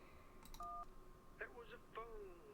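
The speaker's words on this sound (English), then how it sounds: "That was a phone ringing underwater." A phone ringing underwater in the Kentucky Route Zero video game: a brief two-tone electronic beep, then warbling, bubbly tones, heard close and clear against a quiet hum.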